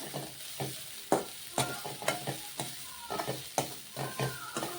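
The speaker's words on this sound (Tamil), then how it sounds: "அதே நெய்யில் தான் வறுத்து எடுத்துக்கிறேன்" Ingredients roast in ghee on a stove for a coconut milk sweet, with a spatula scraping the pan in quick rhythmic strokes about twice a second over a gentle sizzle, close and fairly quiet, without speech.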